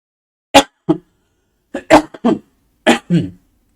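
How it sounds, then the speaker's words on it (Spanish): A person coughs in several sharp, separate bursts, close and loud, with silence between the fits. "a ver si me deja esta tos"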